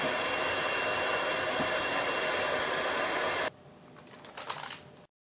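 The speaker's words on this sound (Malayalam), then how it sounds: "ഇനി നമുക്കിതിലോട്ട് കോൺ സ്റ്റാർച്ച് ചേർത്ത് ഒന്നുകൂടെ ബീറ്റ് ചെയ്തെടുക്കാം." An electric hand mixer beats a vanilla pudding mixture with corn starch, giving a steady, even whir for about three and a half seconds. It then cuts off, leaving a few faint clatters before silence.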